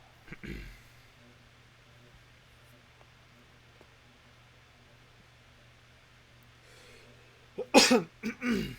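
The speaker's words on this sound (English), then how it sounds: "Sorry, this is a bad time to clear my throat." After a long quiet stretch with faint background hum, a close throat clearing bursts out in a few harsh, rough pulses, with a soft earlier cough.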